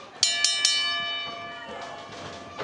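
Ring bell at a women's championship wrestling match, three sharp metallic clangs in quick succession, each ringing out with long sustained overtones, followed by fainter crowd noise.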